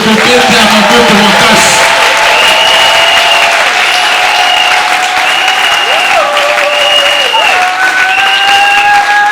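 A church congregation acclaims the Lord with loud, sustained applause and cheering that fills the whole stretch, with voices and tonal musical lines ringing over the clapping.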